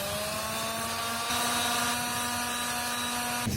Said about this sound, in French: je vais simplement mettre un petit coup de ponceuse sur toute cette surface